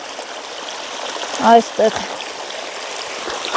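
Steady stream water flows on a land plot near Yeghegnadzor, a constant rushing wash filling the background while a voice briefly speaks over it.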